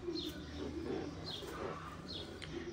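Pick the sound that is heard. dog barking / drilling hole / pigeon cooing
pigeon cooing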